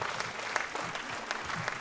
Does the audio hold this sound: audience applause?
yes